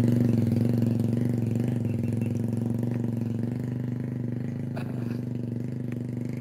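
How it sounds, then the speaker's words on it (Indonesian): A motorcycle engine idles steadily close by with a low, even throb, easing slightly quieter toward the end, set outdoors during a jungle-fowl hunting outing. "Kita motor teman-teman, suaranya kayak Rossi."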